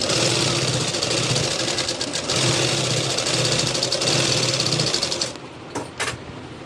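Close and continuous, a sewing machine hums as it stitches the shoulder join of a lined blouse for about five seconds, then stops and starts in two quick bursts.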